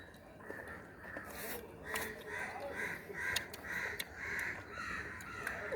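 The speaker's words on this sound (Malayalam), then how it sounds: "കാക്കകൾ കുറെ കാക്കകളെ വിളിച്ച് വരുന്നുണ്ട്" Several crows cawing repeatedly at moderate distance outdoors, harsh calls recurring in a loose rhythm over faint background noise, with no talking.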